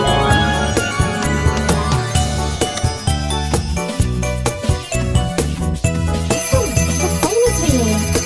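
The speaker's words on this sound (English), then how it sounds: "The phone is ringing." A phone rings in the Robocar City video game, its bright chiming ringtone jingling repeatedly over busy, loud game music for the whole stretch.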